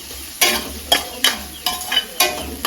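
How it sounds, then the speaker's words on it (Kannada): Vegetables sizzle in a hot pan while a spatula stirs them in quick, regular scraping strokes, about five in a row. "ಚೆನ್ನಾಗಿ ಫ್ರೈ ಆಗಬೇಕಂತ ತರಕಾರಿ."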